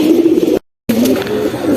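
Beji and Silver pigeons coo nearby in low, throaty warbles, broken by a short silent gap before the cooing resumes.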